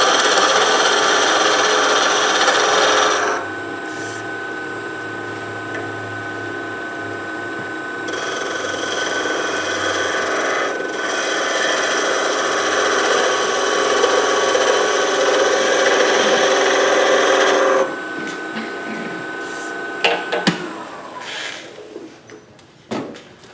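A skew chisel cuts wood spinning on a lathe, making a loud, continuous hissing scrape that shifts in tone as the cut changes, then breaks off into scattered shorter strokes near the end.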